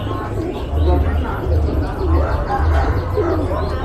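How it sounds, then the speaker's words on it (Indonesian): Large carrier pigeons coo in a repeating low, throaty pattern at a bird market in Sumpiuh, close and steady, with crowd chatter and other birds chirping faintly behind. "Cakep banget ya teman-teman merpati posnya."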